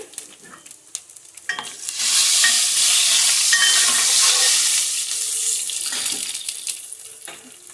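Shallots with turmeric and curry leaves frying in oil for tomato rasam give a loud, steady sizzle that swells after a few seconds, with stirring and clinks of a utensil against the pan, and no talking.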